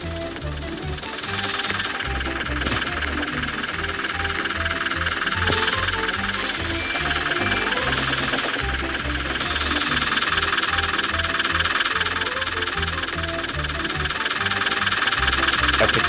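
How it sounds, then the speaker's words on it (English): A diesel train engine thunders along a track during a Roblox chase, its heavy rhythmic chugging and knocking steady and loud, layered with hiss and rattling, continuous for the whole stretch with no talking. "It seems like the red light diesel's catching up."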